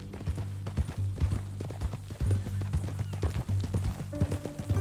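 Horse hooves clip-clopping along in Red Dead Redemption 2, a steady rhythmic trot of close, clear hoofbeats over a low engine-like drone, with a faint tonal sound near the end.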